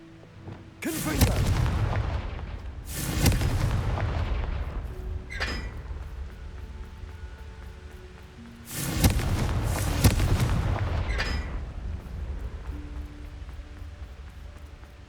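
Confringo spell explosions in Hogwarts Legacy, three heavy booming blasts a few seconds apart, each with a sharp onset and a long rumbling decay, loud and close.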